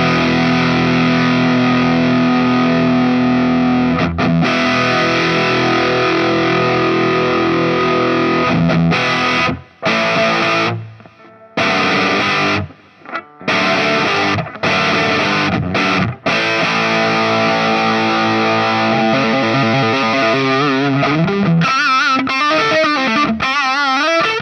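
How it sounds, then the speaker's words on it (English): Electric guitar through a Line6 Helix T-Mar distortion in a Marshall-style preset with impulse responses, loud sustained distorted chords with brief silent gaps and ringing notes near the end. "In this one here, I'm going to put in a distortion."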